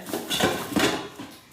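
Toy kitchen pots, pans and utensils from a child's first-birthday gift set clatter in three quick, close bursts of clinking metal, with no talk.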